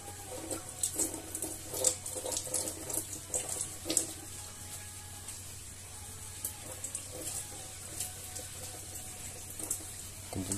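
Tap water runs steadily over fabric being rinsed after super glue removal, a close, continuous splashing stream with uneven surges and no voices.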